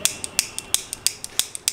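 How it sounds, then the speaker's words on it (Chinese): A newly bought lighter clicks repeatedly without catching, in a guesthouse in high-altitude Litang. About ten sharp, close mechanical clicks come in an uneven rhythm, with no flame sound. "打不着啊，刚买的打火机。"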